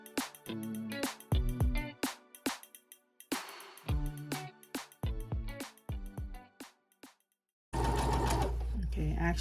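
A sewing machine works at medium speed on a final stitch, starting and stopping in short, uneven bursts before running steadily near the end.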